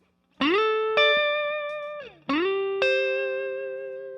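Electric guitar played with a clean tone through an Ibanez TS808 Tube Screamer overdrive pedal with a JRC chip, set so no drive is added: two sustained notes ring out one after another, each fading slowly, loud and alone.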